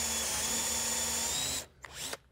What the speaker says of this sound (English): So I'll clean this out and drill this all the way through, keeping it perpendicular as I go,